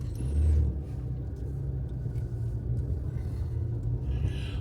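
A car drives across the Parvin covered bridge, built in 1921, a steady low engine and tyre rumble heard from inside with a louder swell at the start, with no talk.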